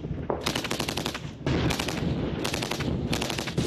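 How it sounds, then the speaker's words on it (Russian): Loud, rapid bursts of automatic machine gun fire from infantry during large-scale military exercises in southern Russia, several long volleys in quick succession with only brief pauses between them. "Следом шквалистый огонь открывают пехотинцы."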